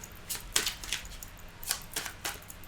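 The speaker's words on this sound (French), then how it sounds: "Alors, je remélange pour mélanger la coupe." Tarot cards are shuffled and cut in a few crisp, papery riffling bursts, close and fairly loud, with short pauses between them.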